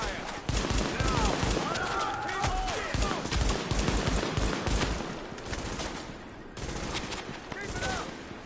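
Sustained gunfire in Tom Clancy's The Division video game, with rapid overlapping bursts and automatic volleys rattling on for several seconds, mixed with game effects and shouted combat voices.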